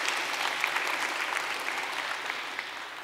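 Audience applause at a youth climate strike event honoring Mary Robinson, a steady mass of clapping at moderate loudness that tapers slightly near the end, with no talking over it.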